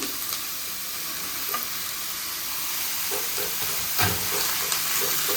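Carrots, beans and peas sizzle and fry in a pan with occasional stirring scrapes, a steady close hiss with soft clatters and no talking.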